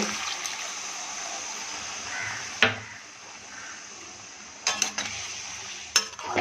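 Potatoes are stirred in a pot of simmering water-thinned Bengali fish curry, with a continuous wet bubbling hiss and a few sharp metallic scrapes and knocks of the spoon against the pot, close and without speech.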